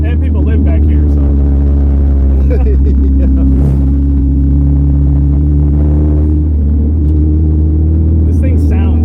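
A 2004 Honda Civic with a swapped K24 engine drives slowly along a bumpy back road, its loud exhaust holding a deep, steady rumble that swells as the throttle opens.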